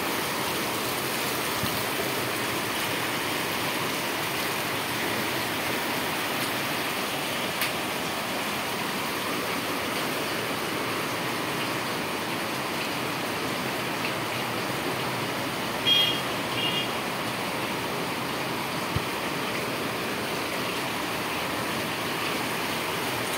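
Constant heavy rush of water from heavy rain and village floodwater, steady and unbroken throughout with no voices.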